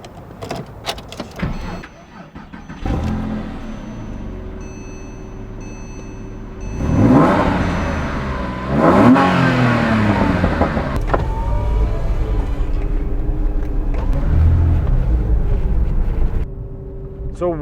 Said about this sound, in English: I'm gonna try to bring you that feeling of driving 2008 Porsche 911